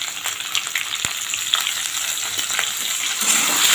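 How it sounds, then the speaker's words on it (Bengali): Vegetables with jackfruit seeds, salt and turmeric sizzle in a hot pan, a steady frying hiss with occasional scraping clicks of stirring, close and alone. "সবজিটা ভালো করে ভেজে নেব।"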